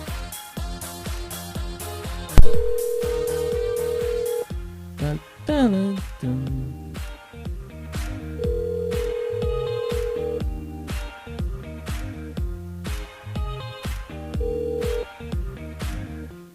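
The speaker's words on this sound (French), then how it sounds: "on appelle Isabelle du côté du standard" A telephone ringback tone sounds in three steady bursts on a French-language call-in radio show on Kayanm FM, over busy background music, as a caller's line is dialed.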